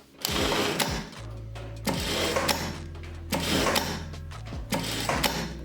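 A Jack A4E industrial electronic straight-stitch sewing machine runs in repeated bursts of rapid, steady stitching hum, each followed by a sharp thread-cutter click and brief pause, close and clear.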